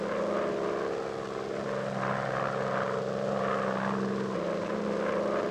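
A helicopter flies over a lagoon with a continuous droning engine and rotor hum, steady and fairly loud throughout with slight shifts in pitch, no voices.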